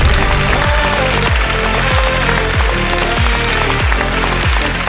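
A large audience claps continuously at a stage awards show, the Amrita Digital Awards 2025, with loud, dense applause under a rhythmic music beat throughout.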